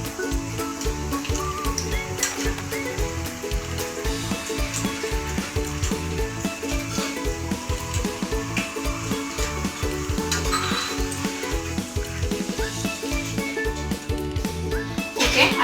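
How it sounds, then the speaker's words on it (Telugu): Aloo cutlets made of potato with rice flour fry in a pan with a steady, dense sizzle that runs continuously and loudly throughout, with no talk. "ఇవి చక్కగా వేగిపోతున్నాయి"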